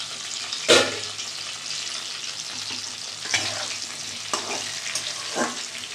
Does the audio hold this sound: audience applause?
no